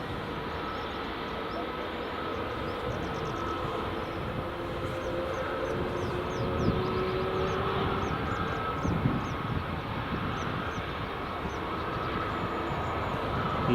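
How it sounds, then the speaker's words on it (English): An EasyJet Airbus A320neo on runway 24 at Edinburgh Airport gives a steady, broad engine roar that holds level throughout, heard from a distance without speech. "EasyJet A320 Neo."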